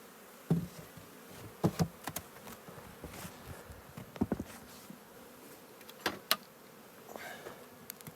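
Honey bees buzz quietly around a hive ladder and feeder in late July, a faint steady drone broken by a few sharp knocks and taps of hive equipment.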